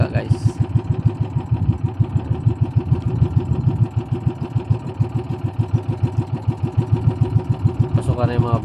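Fishing boats head into shore ahead of a storm, their engines chugging with a steady, pulsing rhythm at close range, and a voice breaks in briefly near the end.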